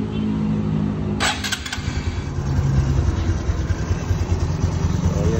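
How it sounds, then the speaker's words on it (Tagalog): A motorcycle engine, its flywheel newly reinstalled, cranks and starts close by, then runs at a steady, throbbing idle that grows slightly louder and continues without interruption. "So papanda rin na natin kung okay ba."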